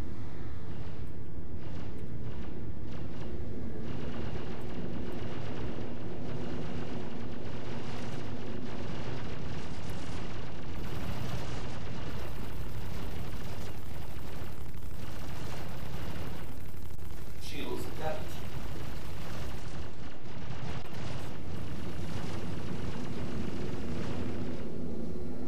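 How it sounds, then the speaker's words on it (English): Gunfire hitting a small Aurora spaceship in the Star Citizen video game, a loud continuous barrage of booming blasts and rumbling impacts that lasts the whole stretch with no pause. "Oh, someone is shooting at me."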